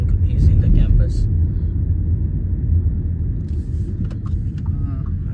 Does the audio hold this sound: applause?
no